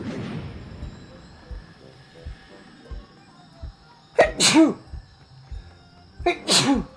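Two loud, close sneezes a couple of seconds apart, each a sharp explosive burst, over quiet background with faint soft thumps.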